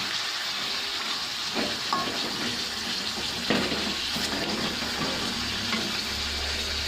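Beef with tamarind stirred in a frying pan, a steady close sizzle with a few scraping strokes and a watery, bubbling edge, no voices.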